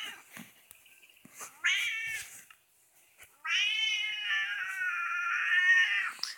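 A cat in Minecraft meows repeatedly, first a few short soft mews, then a couple of louder drawn-out whiny calls, the last one long and sustained, close and clear with no talking.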